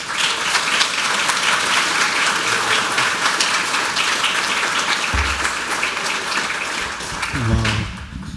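An audience applauds to welcome Paul Pfeiffer and Bruce Nauman, a full, sustained burst of clapping from many hands that carries on for several seconds before thinning out at the end.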